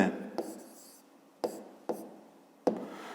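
Chalk or marker writing on a board during a fifth-grade math lesson on lines and rays: four sharp taps and strokes at uneven intervals, each trailing into a soft scraping rub, close and fairly quiet with no talking.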